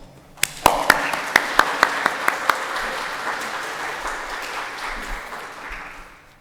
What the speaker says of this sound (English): Please join me in showing our appreciation in a round of applause.